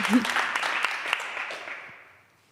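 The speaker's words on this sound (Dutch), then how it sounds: "Even een applaus voor Ilse Vos." Applause for a poet at a live event, a short burst of audience clapping with some voices that fades out to quiet over a couple of seconds.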